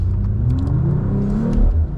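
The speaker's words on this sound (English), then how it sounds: "You can press this exhaust button, open up the exhaust valves, we can turn it into Sport Plus or race mode" A 2025 Mercedes-AMG CLE 53 Cabriolet engine revving with its exhaust valves open, a loud, deep, steady exhaust drone with a short swell in pitch, close and with no talk over it.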